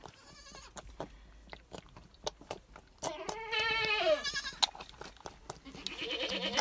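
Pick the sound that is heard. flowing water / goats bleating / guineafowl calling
goats bleating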